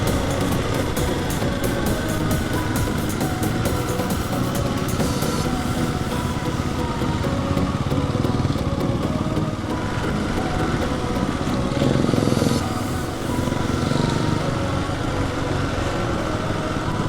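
A motorcycle is ridden along a bumpy stretch of road in Hong Kong near Robin's Nest, its engine droning loudly and steadily throughout, mixed with wind rush and small shifts in pitch.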